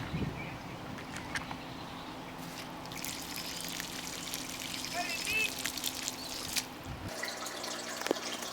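Water drains out of a fish tank in a soft, continuous trickle and pour with occasional drips, fairly quiet and close. A low hum runs underneath and cuts off near the end.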